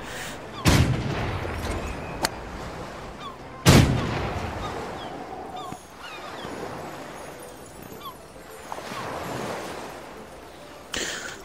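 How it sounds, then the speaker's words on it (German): Cannon blasts in the video game Golf with your Friends, two sharp booming shots a few seconds apart, each with a short decaying tail, plus a later third burst over quiet game ambience. "Die Kanone schießt mich rüber und ich lande im Wasser"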